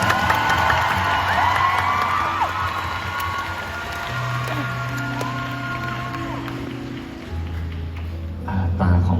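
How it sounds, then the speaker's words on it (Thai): A large crowd cheers and claps steadily, with whoops and shouts rising above the noise, loud and continuous throughout. "ขอเสียงปรบมือให้น้องดิวกับพี่นานีหน่อยครับ"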